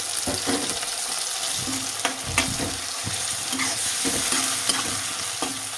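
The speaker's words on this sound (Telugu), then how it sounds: "ఇలాగా ఇది కూడా మంచిగా నూనెలో వేగాలండి. అల్లం పేస్ట్" Freshly ground ginger paste fries in hot oil for a spicy chicken liver fry, giving a loud continuous sizzle with rhythmic spatula strokes scraping the pan close up and no speech.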